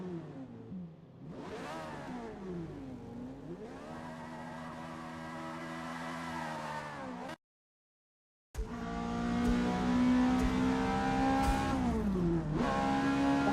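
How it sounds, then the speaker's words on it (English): Racing car engine in the Gran Turismo 7 video game revving hard through repeated rising gear-change sweeps, loud and close, with a brief silent gap midway before revving resumes. "Have a listen to the engine now."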